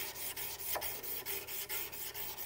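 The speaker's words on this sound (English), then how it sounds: "you can rip a nice little strip out, and then you can use this to saw it basically back and forth with really high grit" A strip of fine, high-grit sandpaper is sawn back and forth across a fiberglass bow, producing close, rhythmic rasping strokes, about four per second, with no talking.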